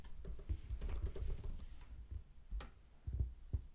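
Typing on a computer keyboard, rapid close clatter of keystrokes in a dense run, then a pause and a few scattered taps, no speech over it.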